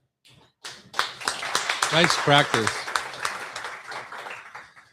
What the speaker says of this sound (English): You clap when Bridget claps, if you would.